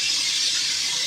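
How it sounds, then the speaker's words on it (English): Meat dry-fries in a hot pan, giving off a steady, bright sizzling hiss that stays close and even for about a second with no voices over it. "this is what you call the frying process."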